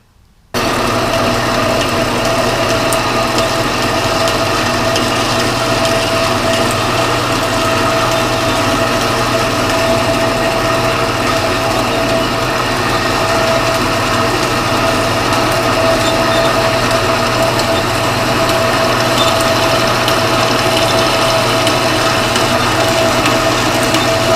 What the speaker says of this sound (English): I'm going to cut this off on the bandsaw